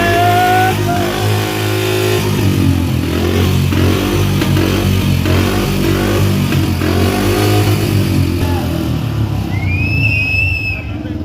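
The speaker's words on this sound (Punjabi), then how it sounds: "ਬੁਲਟ ਨੂੰ ਕਿੱਕ ਮਾਰ ਲਈ ਆ" A heavy Bullet motorcycle engine, kick-started, runs loud and close, its deep thumping idle rising into revs, with voices talking over the rumble throughout.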